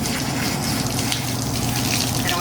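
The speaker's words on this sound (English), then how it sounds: "I want the water to run clear." Water from a tap gushes steadily and loudly while hair dye is rinsed out by hand, a continuous broad rush with no break.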